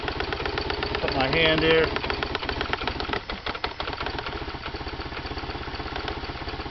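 Engine idling steadily with audible throttle-body noise, a close, continuous low rumble with a fine repetitive ticking texture, while someone talks briefly over it.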